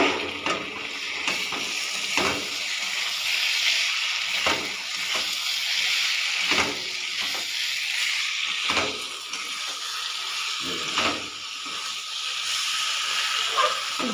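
Potol (pointed gourd) and potato pieces fry in a spiced masala, giving a steady close hiss and sizzle broken by repeated short scraping stirs.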